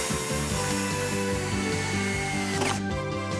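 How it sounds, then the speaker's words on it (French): A power drill drives a screw into wood at a falconry enclosure in a zoo, its motor whining steadily and loudly for about two and a half seconds before cutting off abruptly. "c'est lui qui utilise la perceuse"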